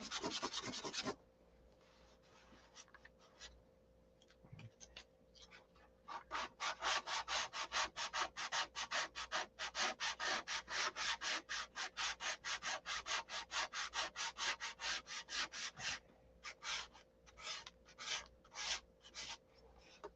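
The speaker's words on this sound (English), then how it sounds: "Kind of about knowing the tools and knowing how to use them to get a super nice sand job." Hand sanding with a sanding block on a car body, a rapid run of dry rasping strokes that starts sparse and builds into a steady back-and-forth rhythm, close and fairly loud with no talking.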